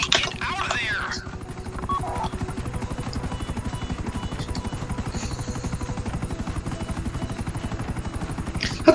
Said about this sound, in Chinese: 他怎么把飞机卡出来的？